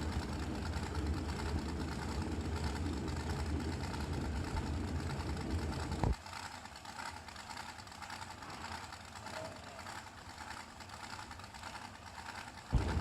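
Supercharged American dragsters staged at the start line of a drag racing event, heard as a steady rumbling engine idle from a distance that drops off suddenly partway through, followed by quieter droning.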